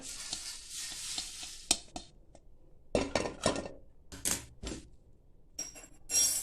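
Dry-roasted drumstick (moringa) leaves tipped from a pan onto a plate for idli podi, making a string of crisp rattling, scraping bursts at close range with brief pauses between them and no talking.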